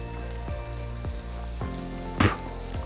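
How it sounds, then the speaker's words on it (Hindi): Small paneer cubes frying in butter in a pan, a steady close sizzle with a few soft regular clicks and a brief louder hiss burst near the end, with no talking. "पनीर को फ्राई करना है।"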